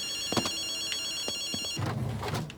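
A digital payphone in Ghostwire: Tokyo rings in bursts of electronic tones, steady high pitches with a few sharp clicks, followed by a louder muddled rustle near the end.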